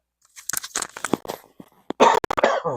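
Several raspy coughs and throat-clearing bursts, close and uneven, with a harsher cluster of coughs near the end.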